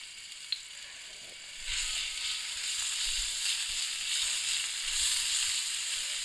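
Steady crackling sizzle of ground garlic lightly frying in hot oil for potato kebabs, starting a moment in and continuing evenly at moderate loudness, with no voices.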